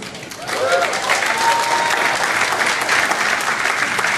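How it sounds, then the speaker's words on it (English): Audience applause at a social media training event, starting a little softer then swelling into a steady, full wash of clapping from a large crowd, sustained throughout at close range. "you can applaud if you want"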